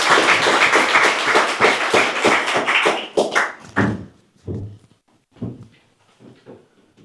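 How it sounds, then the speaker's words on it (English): Audience applause at a lecture on neoliberalism and the market, scattered close claps that thin out after about three seconds into a few isolated taps and thuds. "Another round of applause for Dick Werry."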